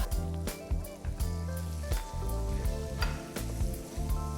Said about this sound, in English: So we're just browning off this meat.